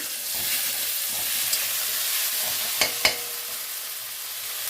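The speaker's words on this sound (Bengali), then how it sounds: "পেঁয়াজটা ভাজা হয়ে গেছে। এখন আমি একটু আদা বাটা দিলাম" Onions fry in oil with ginger paste added, a steady close sizzle running throughout, broken by two sharp clacks of a utensil near the middle.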